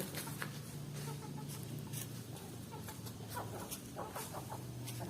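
Chickens cluck and squawk intermittently at a moderate distance over a busy outdoor background, with no clear talking.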